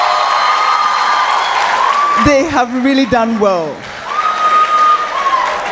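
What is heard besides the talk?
audience clapping and cheering for a team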